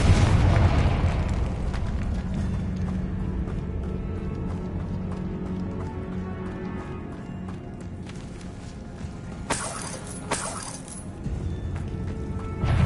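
A Confringo fire spell bursts in Hogwarts Legacy, a loud booming blast at the start that rumbles and decays under continuous game music, with later crackling flares and impacts, no speech.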